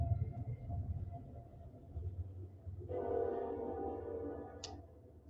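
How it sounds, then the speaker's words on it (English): A passing train rumbles at a distance at low level, then a horn sounds with a sustained layered tone about midway and continues to the end. "train,"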